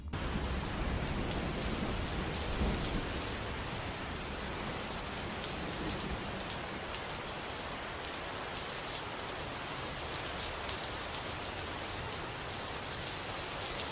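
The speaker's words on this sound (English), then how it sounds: "Add some tropical rain sound effect on those speakers and this will be an awesome productivity setup." Steady tropical rain falls in a dense, even hiss of drops on surfaces, with a faint low rumble beneath, continuing unbroken and fairly loud for the whole stretch.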